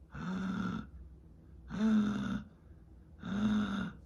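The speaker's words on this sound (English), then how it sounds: "you assume it's our main character struggling to breathe" Labored, rasping breathing plays in a film's background, three slow, heavy breaths evenly spaced, each a drawn-out throaty rasp, close and alone.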